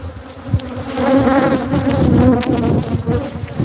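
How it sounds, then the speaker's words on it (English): Agitated honey bees swarm and buzz loudly around a hive, a dense continuous drone close to the listener with shifting pitch as individual bees fly past. "The girls are acting very agitated."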